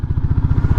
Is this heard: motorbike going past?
yes